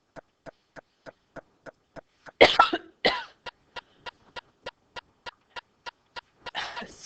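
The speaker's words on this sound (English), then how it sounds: "I just had a coughing fit" Two harsh bursts of coughing, close and loud, break into a steady run of soft, evenly spaced ticks, then a rougher burst of coughing follows near the end.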